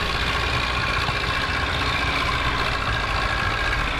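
A small tractor engine in Farming Simulator 15 drones steadily at a constant idle-like pitch, a continuous rumbling hum with no talk over it.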